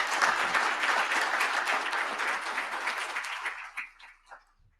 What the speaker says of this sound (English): Another round of applause for Martin Cabrera.